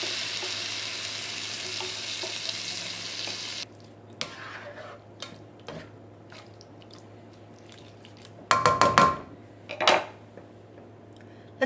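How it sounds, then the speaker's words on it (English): Tomato sauce poured into a sizzling lasagna meat sauce: a loud steady sizzle that cuts off abruptly, followed by quieter scrapes and taps, then a burst of clattering pan and utensil noise, close up with no talking. "And now I'm going to add 29 ounces of tomato sauce."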